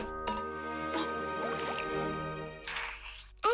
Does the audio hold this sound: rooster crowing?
no